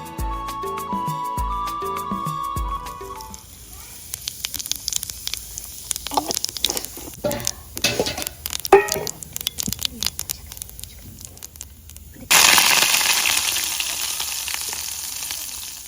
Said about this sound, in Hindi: यहाँ पर इसमें गरम गरम ही तेल डाल देते हैं और लगा देते हैं तड़का